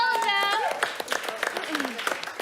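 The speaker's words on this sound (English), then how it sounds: "let's give a big round of applause for all of" Crowd applause greets three directors brought onstage at a Friday night showdown, a dense patter of many hands with whoops and cheering voices rising over it, fairly loud and close.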